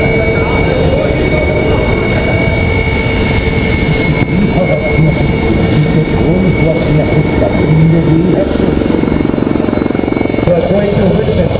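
Loud, continuous jet engine roar from a Sukhoi fighter jet at an air show in Andaman, a steady broadband rumble throughout with crowd and commentary faintly underneath.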